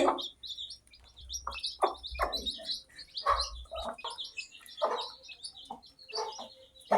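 A hen clucks nearby while her newly hatched chicks cheep in high, rapid bursts, the calls overlapping in an irregular chorus at close range.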